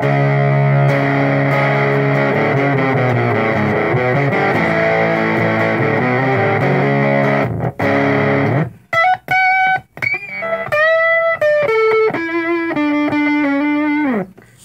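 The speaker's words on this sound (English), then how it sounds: "sounds pretty good with the Fender Strat. I mean, it kind of has like a big muff tone to it." A distorted electric guitar, a Fender Stratocaster through a Big Muff-style distortion pedal, rings out thick sustained chords, then plays a run of single bent notes, loud and close.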